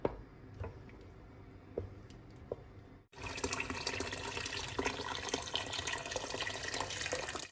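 Hot water poured into a pot of Moroccan harira soup: after a few quiet clicks, a loud, steady rushing pour starts midway and continues to the end.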